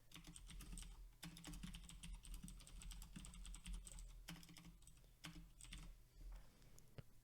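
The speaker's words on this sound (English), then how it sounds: "let me just type this in" Computer keyboard typing, a continuous stream of quick close clicks and key taps that runs throughout, faint and without talk.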